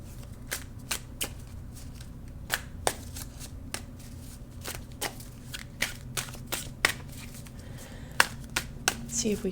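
Tarot cards being shuffled for a full moon rune and tarot reading, a steady run of sharp riffling snaps and flicks repeating throughout, close and crisp over a faint background hum.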